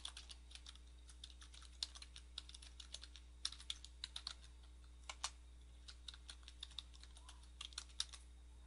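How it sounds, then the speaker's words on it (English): Typing on a computer keyboard: quiet, irregular clusters of light key clicks and taps over faint steady background hum, with no voices. "And then we will type in the site address,"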